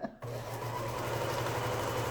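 A sewing machine stitches a quilt in a close, steady run that starts after a brief pause and hums on evenly to the end.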